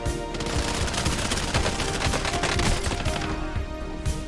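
Sniper gunfire in Call of Duty: Warzone crackles amid a dense, continuous barrage of rapid gunshots, loud and close with overlapping reports and no pauses.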